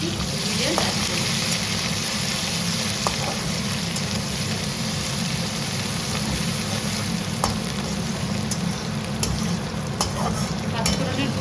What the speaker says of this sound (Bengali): আদা কাঁচা লঙ্কাটা এবার ভালো করে কষিয়ে নেবো, গন্ধটা চলে যাবে কাঁচা গন্ধটা